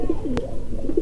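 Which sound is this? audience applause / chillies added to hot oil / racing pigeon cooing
racing pigeon cooing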